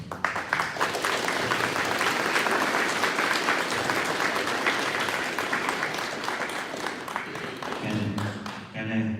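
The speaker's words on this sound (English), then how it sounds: "Please give a big hand of applause first." An audience at a Vietnam War Veterans Day event in a community center in Falls Church, Virginia, claps loudly and continuously for several seconds before the applause thins out near the end.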